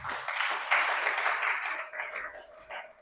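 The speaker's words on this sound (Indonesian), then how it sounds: "Berikan sorakan bagi Tuhan kita." A church congregation at GBI BSB Sorong claps and cheers in praise of God, a loud burst of applause that swells at once and then slowly thins and fades.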